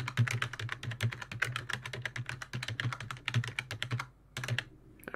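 A password being typed on a computer keyboard, a dense, close, rapid stream of key clicks with a brief pause near the end before a few final taps, no talk.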